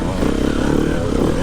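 A TM 300 four-stroke motorcycle rides round a wet, muddy track, its engine a steady rough drone close by with clattering mechanical texture.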